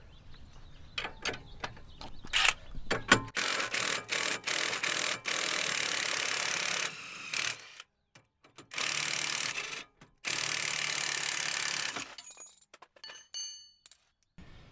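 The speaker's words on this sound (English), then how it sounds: "Using 21mm wrench and 18mm socket, remove those bolts." Metallic clinks and ratcheting of a 21mm wrench and 18mm socket loosening front lower control arm bolts on a 2013-2020 Range Rover, with bursts of harsh, loud ratchet noise separated by short pauses.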